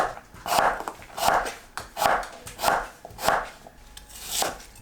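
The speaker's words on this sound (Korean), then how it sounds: "도라지는 갈기 좋은 크기로 썰어줍니다" A knife chops bellflower root (doraji) into pieces on a cutting board. About seven firm, evenly spaced chops land close by at a steady rhythm, with no voices.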